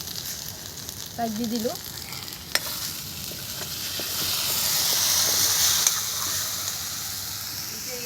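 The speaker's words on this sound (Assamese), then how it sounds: "এতিয়া মই এতিয়া ভাজি ল'ম" Meat fries in a pan with a steady sizzle that grows stronger midway, with occasional stirring clinks. Someone speaks briefly near the start.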